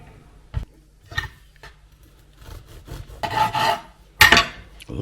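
Bread knife sawing through a cooled loaf of homemade gluten-free bread, a series of crisp rasping strokes that grow louder and coarser toward the end, close and dry with no talking.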